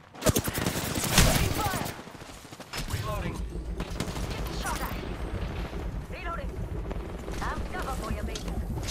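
Heavy gunfire in a squad-based shooter game, a thick barrage of automatic shots with mechanical clatter, loud and nearly nonstop, with a voice speaking briefly over the fighting.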